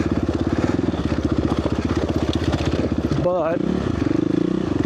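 A motorcycle engine pulses in a fast, rough rhythm as the bike rides over rocky trail terrain, loud and close, with a brief spoken word and a rattling clatter near the end.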